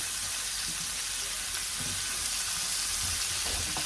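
Onions and garlic sauté in a pan for chicken cacciatore, giving a steady, close sizzle and hiss that runs unbroken throughout, with faint stirring noises underneath.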